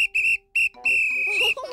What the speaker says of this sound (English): Barney, you forgot your whistle.